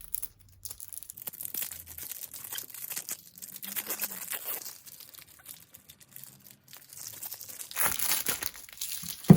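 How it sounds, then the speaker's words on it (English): Crinkly plastic wrapper of a trading card pack being torn open by hand, with close, continuous crackling and ripping over several seconds and a sharper crunch near the end. "let's get to opening our last pack"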